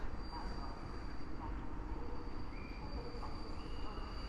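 A passenger train hauled by an EP07 electric locomotive rolls past on suburban tracks near Warszawa Zachodnia station. It makes a steady, broad rumble and rail roar throughout, with faint high squeals.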